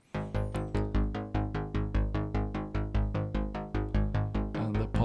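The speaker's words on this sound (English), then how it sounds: "the Synth 1 bass sound sounds like this" A Synth 1 plugin bass patch plays alone in a bouncy run of short, punchy repeated notes at a brisk steady tempo, each note decaying quickly before the next.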